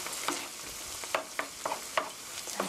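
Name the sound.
stir-frying ketchup and meat sauce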